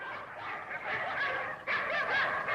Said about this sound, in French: Faites-les aboyer plus fort!